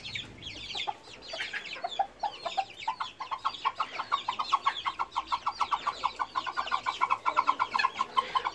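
Chickens cluck softly while a rooster gives a rapid, repeated food call over thrown hazelnuts, the pulsing calls quickening and growing louder toward the end, close by with no talk.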